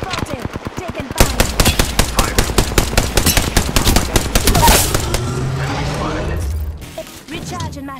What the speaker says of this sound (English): The second squad is firing at us.